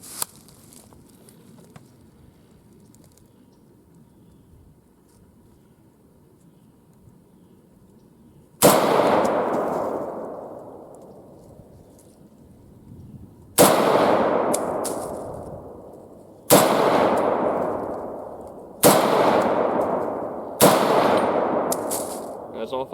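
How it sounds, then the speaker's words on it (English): Five sharp, loud rifle shots from a Venezuelan FN-49 fired at a 100 range, each a crisp crack with a ringing decay, spaced a few seconds apart after a quiet opening stretch. "Alright, I'll do another 5 rounds,"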